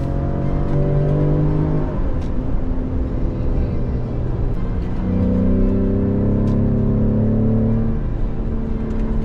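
Inside the cabin of a Ford ST performance SUV in sport mode, the engine drones steadily, its pitch rising and falling as it holds gears, with continuous road and motor hum throughout.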